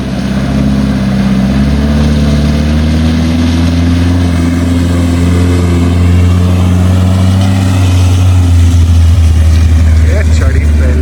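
A Maruti Gypsy engine roars loudly and steadily as the off-roader climbs a muddy slope in the rain season, its pitch shifting with throttle, while people talk over it.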